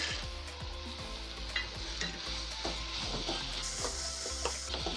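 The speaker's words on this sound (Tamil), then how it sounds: "இப்போ இது எல்லாத்தையும் நல்லா ஒரு வாட்டி ஃப்ரை பண்ணிக்கோங்க." Spices and roasted gram (pottukadalai) sizzle and crackle in a hot pan, a continuous frying hiss with light stirring clicks and scrapes throughout.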